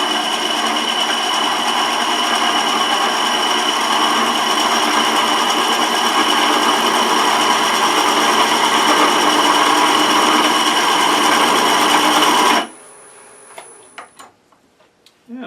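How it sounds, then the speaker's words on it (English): A spiraling tool wheel cuts into walnut spinning on a wood lathe, making a loud, continuous high-pitched whir and rasp that holds steady for about twelve seconds and then stops abruptly, leaving faint shop noise. "We engage the wheel and then lift the handle until it starts cutting."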